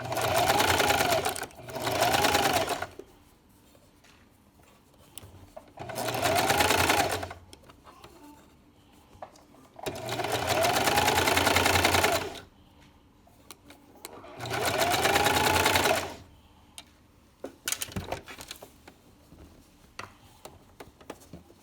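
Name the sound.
sewing machine stitching a baby sleeper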